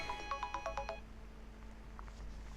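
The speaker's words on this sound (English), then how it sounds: "I just answered my phone by mistake when I was meant to not answer it" A phone rings with a short burst of repeated electronic tones during the first second, then the line falls to a quiet hum with a faint blip.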